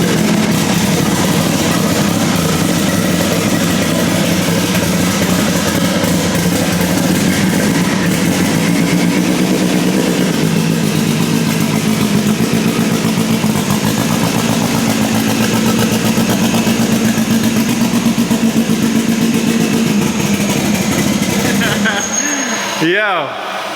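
A modified Honda Civic EK with an all-motor-swapped K20 turbo engine running loudly up close, with a steady, rough, buzzing drone that holds throughout before cutting off abruptly near the end.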